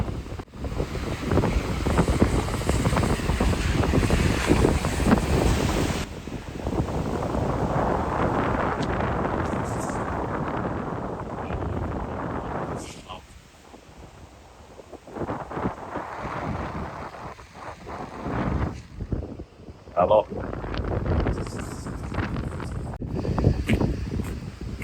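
Strong wind roars and buffets the microphone in heavy, shifting gusts, easing briefly midway before surging again at a rocky coastal headland in Finland; no voices.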